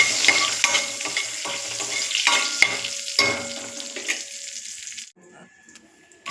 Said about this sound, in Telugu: ఇప్పుడు కొంచెం ఇలాచి, చెక్క, లవంగాలు, ఈ బిర్యానీ ఆకు వేసుకోవాలి. వేసుకొని ఇది కొంచెం ఫ్రై అవ్వనివ్వాలి